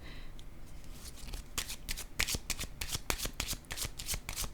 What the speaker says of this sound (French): je vais déposer une autre carte sur les deux